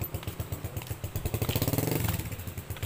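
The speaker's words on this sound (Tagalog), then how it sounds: "Ganda ng motor." A motorcycle engine runs close by in a steady, throbbing rumble that rises slightly in pitch partway through, with a light clatter mixed in and no talking.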